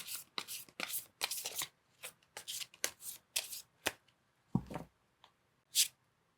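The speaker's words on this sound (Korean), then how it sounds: "마지막 오라클 카드도 뽑아보도록 하겠습니다" Rapid papery riffles and slaps of a tarot oracle deck being shuffled and drawn, in close bursts of crisp flutters with short pauses, ending in a few single card snaps.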